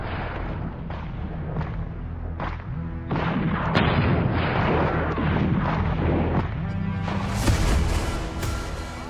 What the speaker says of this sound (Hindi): चौकी के बिल्कुल करीब पहुंचकर तालिबानी लड़ाके रॉकेट लॉन्चर से इसे निशाना बना रहे हैं।